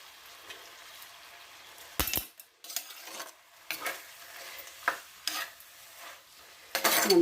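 Prawns and tomatoes sauté in a pan, a soft low sizzle under intermittent scraping stir strokes and clanks, close but fairly quiet, with a few louder knocks and no voices.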